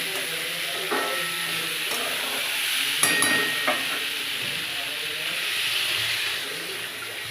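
Potato, eggplant, snake gourd and pea curry being stirred in a pan, a steady close sizzle of frying with occasional scrapes and clinks of the spatula, no voices.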